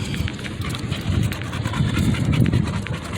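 Heavy, rapid panting from a conditioned pit bull catching its breath after exercise, a steady close rhythmic huffing that continues without a break and swells slightly louder toward the end.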